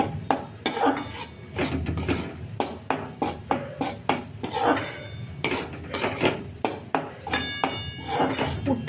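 Potato curry is stirred in a kadai with salt and a little sugar, making repeated metal scrapes and clanks from the spoon against the pan, close, fairly loud and steady, with no talking.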